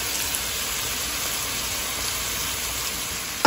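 Onions sauté with salt in a hot pan, a steady close sizzle and hiss that holds at an even level throughout, ending with a short clatter.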